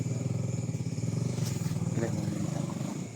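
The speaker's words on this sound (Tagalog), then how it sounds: "May huminto na motor sa harap ng bahay." A motorcycle idles in front of a house after pulling up, its engine putting out a steady, rapid chugging at moderate distance, with a faint clatter partway through.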